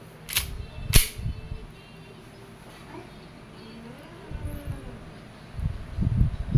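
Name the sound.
WE Airsoft I-REX airsoft gun firing semi-automatic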